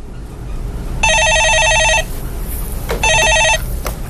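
A telephone rings on a radio call-in show: two bursts of bright electronic trilling, one about a second long and a shorter one after a pause, loud and close over a quiet studio background.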